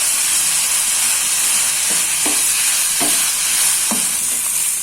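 Food stir-fried in a non-stick wok sizzles and hisses loudly and steadily, while a spatula scrapes and taps against the pan several times, with no one talking.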